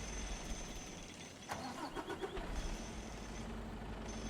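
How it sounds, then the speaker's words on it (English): Truck engine cranking and catching in Farming Simulator 25, a short burst of starter whir at about 1.5 seconds that settles into a steady mid-pitched idle over low background rumble. "We'll use our truck here."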